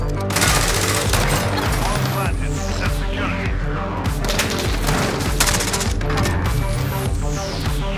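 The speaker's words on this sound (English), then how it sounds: "I'm using the farmer shotgun" Farmer shotgun blasting in a Search & Destroy video game match, rapid overlapping gunfire and booms filling the mix with game sounds throughout.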